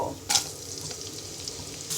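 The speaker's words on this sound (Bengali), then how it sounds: "তেলটা গরম হয়ে গেলে এক কাপ পরিমাণ পেঁয়াজ কুচি দিয়ে দিব" Chopped onion, about a cup, hitting half a cup of hot soybean oil in a wok for a hotel-style vegetable dal, a sharp burst of sizzle then a steady crackling fry with a light stir, close and alone.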